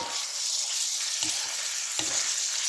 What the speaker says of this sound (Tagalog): Stir fry lang muna natin ang liver in 2 minutes.